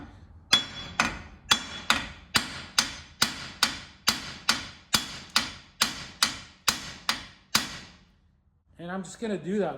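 Repeated hammer blows on the U-joint of a Jeep TJ Dana 30 front axle during replacement, about fifteen sharp, loud metallic strikes at a steady, rapid rhythm, followed by brief speech after the hammering stops.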